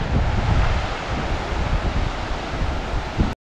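White-capped ocean waves at the beach in Al Wajh, heard as a loud, continuous wash of surf mixed with heavy wind buffeting the microphone, cutting off abruptly at the end.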